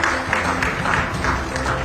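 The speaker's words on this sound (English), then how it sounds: "Let's welcome him with a huge round of applause" Audience applause welcoming a speaker onto the stage at an AI conclave, a steady wash of clapping from a large seated crowd, fairly loud and continuous for a couple of seconds.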